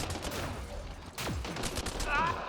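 Gunfire in the video game Mass Effect, a short run of overlapping shots and whooshing weapon sounds in quick succession at moderate loudness.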